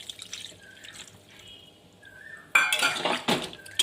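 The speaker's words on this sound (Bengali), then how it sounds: "ভালোভাবে কষানো হয়ে গেছে, জল দিয়ে দিচ্ছি।" Water is poured into a pan of pumpkin and coconut curry, a sudden bright splashing rush after a stretch of quiet utensil clinks and small drips, loud and close for the final second or so.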